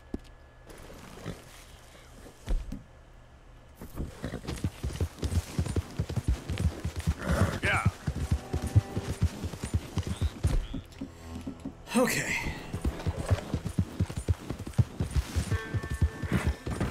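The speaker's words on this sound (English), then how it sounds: "Oh, that's a horse." Horse hooves clip-clopping in the Red Dead Redemption 2 video game, a steady rhythmic trot of close, distinct hoof strikes that runs through most of the stretch and pauses only briefly.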